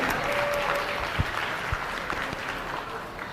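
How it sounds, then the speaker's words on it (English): Steady applause from an audience at a steer show, a dense wash of clapping that holds at even loudness throughout. "Let's have a round of applause for her."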